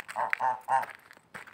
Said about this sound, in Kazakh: Кейбір тіркелушілер жаңадан келіп жатқандарға міне мынау қаздарым